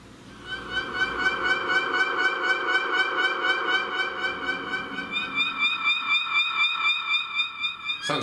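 A synthetic keyboard siren wails steadily in a smooth, warbling rise and fall, loud and alone for several seconds, its wobble quickening toward the end.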